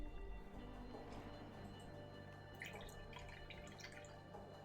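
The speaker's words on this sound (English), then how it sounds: "when I rinse my brush, the water shaking?" Paint brush rinsed in a cup of water gives faint, quiet sloshing and small dripping splashes, most active in the middle of the stretch, over a low background hum.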